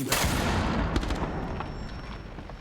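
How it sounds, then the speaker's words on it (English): A flashbang grenade detonating in Rainbow Six Siege during a pro esports match, heard as a loud sustained burst with a few sharp cracks near the start, fading slowly into a steady high ringing tone. "Flashbang going out."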